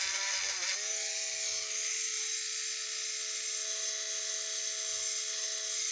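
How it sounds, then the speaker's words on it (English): A Dremel-style rotary tool grinds the sharp edges off a tank valve, a steady high-pitched whine running loud and continuous throughout, close to the mic, with a few faint low knocks early on. "kind of grind this off a little bit smoother, maybe. Get the sharp edges off."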